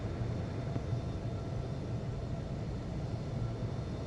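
A Boeing 737 takes off in the Infinite Flight video game, departing Guangzhou airport, with a steady, loud, broadband jet roar that holds constant throughout and has no voices over it.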